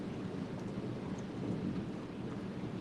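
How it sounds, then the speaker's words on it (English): Heavy rumbling thunder rolls through a steady rainstorm, a deep continuous roar with rain hissing over it, loud and sustained with no voices. "that was powerful piece of thunder there right now"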